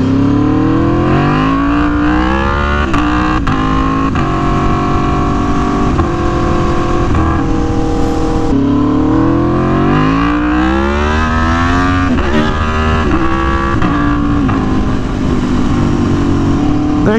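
An Aprilia Tuono V4 1100 Factory motorcycle accelerating in first gear: a loud, continuous engine roar rising and falling in pitch as it revs, heard close up without talk.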